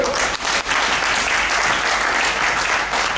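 A church congregation bursts into loud, dense applause during a special worship service, continuous clapping filling the room for the whole stretch with a faint murmur of the crowd beneath.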